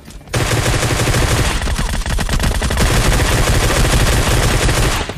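A Groza rifle fires in a video game, loud and close, in sustained rapid automatic bursts that run almost unbroken for about five seconds after a short quiet start.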